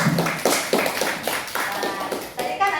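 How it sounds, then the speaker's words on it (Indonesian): Hands clapping in an Indonesian classroom as a group of students applaud together, a scattered, uneven patter of claps mixed with children's voices. "Tepuk tangan dulu untuk kita semua."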